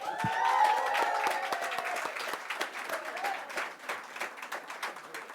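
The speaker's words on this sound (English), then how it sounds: "one more round of applause for PX3" An audience at a graduation ceremony in Miami applauds steadily, many hands clapping together in a sustained, slowly fading round of applause.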